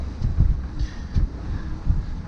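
Steady wind noise buffeting the microphone aboard a sailboat in a 7.5 m/s breeze, low rumbling gusts rising and falling in rhythm with boat and water sounds beneath.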